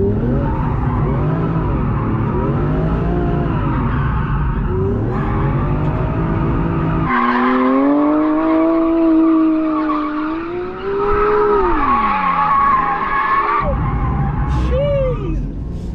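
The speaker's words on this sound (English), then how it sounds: "I thought you didn't want to do a set of tyres today, Mark." Car tyres skid and squeal loudly in long, wavering high-pitched screeches with shifting pitch, over roaring engine revs, close by and sustained across the whole stretch.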